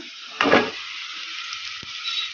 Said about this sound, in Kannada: ಈ ಥರ ಒಂದು ಐದು ನಿಮಿಷ ಕಲಸ್ಕೊಂತ ಫ್ರೈ ಮಾಡೋಣ